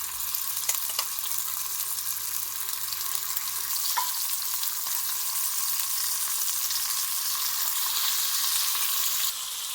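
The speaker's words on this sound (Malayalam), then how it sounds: "നമ്മൾ മാരിനേറ്റ് ചെയ്ത് വെച്ച പ്രോൺസ് ഒന്ന് ഷാലോ ഫ്രൈ ചെയ്തെടുക്കുക" Marinated prawns shallow frying in sunflower oil in a pan, giving a steady, close, crackling sizzle that runs unbroken throughout with no talking.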